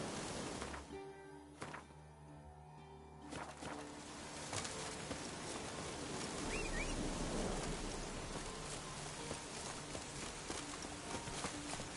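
Roach, a horse in the video game Witcher 3, trots with steady clip-clop hoofbeats, close and rhythmic, over a rainy background hiss and brief game music.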